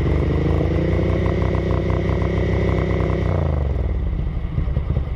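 A Ducati 900SS bevel-drive engine idles steadily close by, a loud, even, throbbing rumble with a mechanical clatter that shifts slightly in tone partway through, no voices over it.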